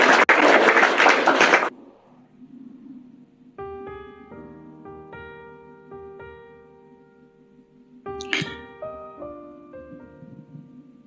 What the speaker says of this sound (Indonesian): Tepuk tangan buat Alimuddin yang cakap dan manis